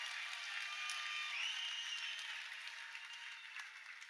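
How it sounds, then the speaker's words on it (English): A crowd at a Shamrock FC 349 mixed martial arts event applauds both fighters after a three-round bout. The clapping is fairly faint and distant, a steady wash that fades slightly toward the end. "round of applause for both of these fighters"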